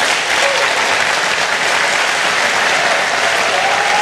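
A dense, steady wall of audience applause fills an awards ceremony for the Formula SAE Michigan student racing competition, loud and sustained with no break.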